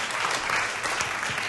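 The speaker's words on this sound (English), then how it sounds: "Now just keep that applause rolling" An audience at a TEDxSydney talk bursts into dense, sustained applause, a loud wash of many hands clapping together without pause.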